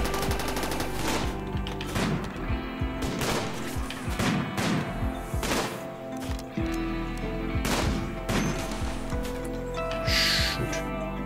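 Gunfire in the video game RimWorld crackles in repeated sharp bursts and rapid volleys over a dense, loud background, with shots spaced irregularly throughout.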